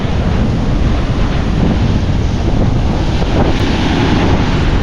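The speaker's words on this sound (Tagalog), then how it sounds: "Napakalakas ang hangin. Ayan, ganito yung mga alon ngayon." Strong wind buffets the microphone in a constant roar, with crashing waves and surf churning underneath throughout.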